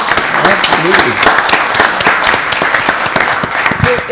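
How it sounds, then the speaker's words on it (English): A room at a county board of commissioners meeting breaks into loud, close applause that lasts several seconds, with a few voices calling out over the clapping. "Let's give them a round of applause."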